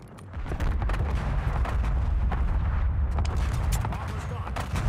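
Airstrike explosions in a video game burst as a dense barrage of booms and blasts, loud and continuous, with sharp detonations layered over rumbling.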